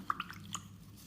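A watercolor paintbrush swished and rinsed in water, a few soft close drips and splashes within a second.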